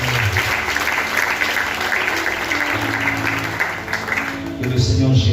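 A church congregation applauds at a prayer service, sustained dense clapping that fills the room, loud and continuous with voices mixed underneath and swelling toward the end.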